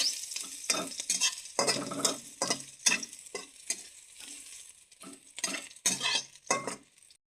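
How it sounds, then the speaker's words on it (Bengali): Crushed garlic fries in a hot pan with cumin, a steady sizzle broken by repeated close scrapes and clinks of a spatula stirring against the metal. "এবার দিয়ে দেবো রসুন থেতো করা। ভালো করে একটু ভেজে নেব।"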